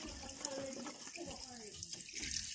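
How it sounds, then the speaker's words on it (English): Tap water runs steadily into a sink as a coconut is washed in a backyard in Jamaica, a soft continuous splashing under faint background noise. "We wash the coconut, pour the water off"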